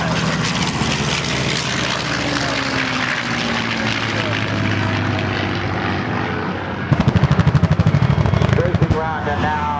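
A B-25 bomber with piston engines and propellers drones past at a Randolph AFB airshow, a steady loud roar under an announcer's voice, with a rapid pulsing propeller beat near the end.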